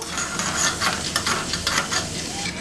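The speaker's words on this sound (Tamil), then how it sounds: "உளுந்தம்பருப்பை நம்ம நல்லா பொன்னிறமாக வறுத்து" Urad dal dry-roasting in a pan without oil until golden, for coconut chutney, with a steady close scraping and rustling stir and a soft crackle throughout, no voices.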